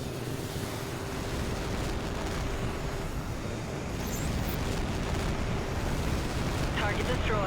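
A destroyed target exploding in the jet combat game H.A.W.X 2, a heavy rumbling roar of blast and fire that sustains for several seconds amid engine noise, loud and close.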